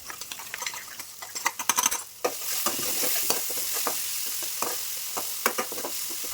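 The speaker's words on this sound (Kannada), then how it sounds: "ಆ ಹಸಿಮೆಣ್ಸಿನ್ಕಾಯಿ ಪೇಸ್ಟ್ ಇದಕ್ಕೆ ಹಾಕ್ಕೊಳ್ಳೋಣ ಸ್ವಲ್ಪ ಹಸಿ ವಾಸನೆ ಹೋಗೋಷ್ಟು ಹುರ್ಕೋಬೇಕು" Green chili paste with curry leaves stir-fried in a pan, a loud sizzling hiss after a burst of clattering spoon-on-pan stirs, with intermittent scraping strokes continuing over the frying.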